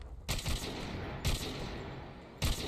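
Three loud bursts of gunfire ring out about a second apart in a COD Mobile match, each sharp crack decaying into a roaring tail, with no talk over them.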